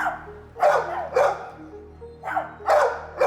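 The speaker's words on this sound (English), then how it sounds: "compared to the canine cacophony in the dog kennels" Dogs barking in shelter kennels, four or five sharp barks in separate bursts roughly a second apart, fairly close, over a low steady hum, with no talk.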